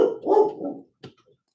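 A dog barks once loudly and close, a short yelping bark followed by a faint second yip, with no talk around it.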